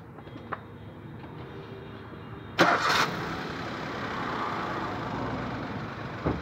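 A Maruti Suzuki Alto 800 engine cranks and catches after a quiet stretch, a sharp burst of starting noise followed by a steady idle that continues to the end.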